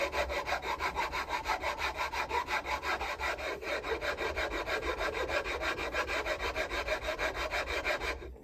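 A hand saw cuts steadily through walnut for a small cutting board, giving a continuous rhythmic rasping of back-and-forth strokes, close and fairly quiet, with no voices.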